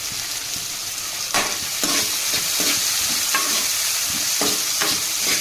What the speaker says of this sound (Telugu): ఒక కళాయిలో ఆయిల్ పోసుకోవాలి అందులోనే జీలకర్ర పచ్చిమిర్చి ఉల్లిగడ్డలు అవన్నీ వేసుకొని ఫ్రై చేసుకోవాలి